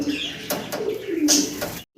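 Lotan pigeons cooing softly in a loft, low repeated coos with a few brief bird sounds on top, close by with steady background noise and a sudden cut at the end.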